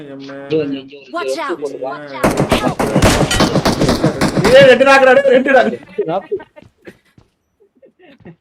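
Rapid gunfire bursts in a shooter video game, dense and loud, running for a few seconds in the middle, with people talking excitedly over it before and after.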